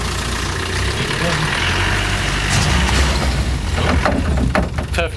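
A 4x4 engine revs at medium throttle in first low gear while the vehicle pulls off through mud, a loud steady engine roar running throughout.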